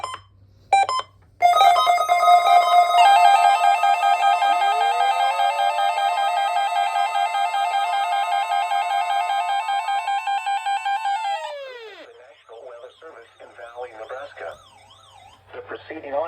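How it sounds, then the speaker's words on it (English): NOAA weather radio EAS test alarm: a few short data bursts, then a loud, steady, piercing two-tone alarm holding for about ten seconds before cutting off, followed by faint sounds. "The preceding audio signals and alarm tones were a test of NOAA All Hazards Radio Public Warning Alarm System"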